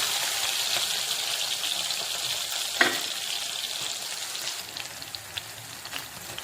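Ginger garlic paste fries in hot oil in a pan, giving a loud, steady close-up sizzle with one sharp clack partway through and no voices.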